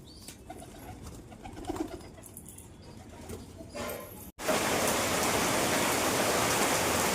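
Heavy rain starts abruptly and pours with a loud, dense, steady hiss, after a quieter stretch of outdoor ambience with birds cooing.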